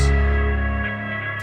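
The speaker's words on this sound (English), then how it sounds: "in the tails of the reverb, you're getting this reversing effect" Guitar or synth tone run through an effects unit, its reverb tails stuttering and reversing in choppy sample-sized fragments; a dense, sustained, processed wash that thins and flutters toward the end, with no voices.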